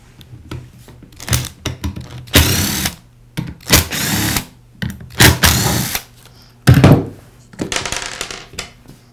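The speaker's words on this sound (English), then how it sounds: "I'll begin by removing the 3 screws that secure the sander pad to the sander" A power screwdriver removing three screws from the pad of a Porter Cable sander, in short repeated whirring bursts with quiet gaps and small clicks between them, close and fairly loud, no talk.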